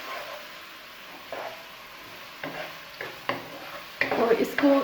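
Garlic paste fries in a pan with a soft, low sizzle, punctuated by scraping stirs that grow louder and busier toward the end.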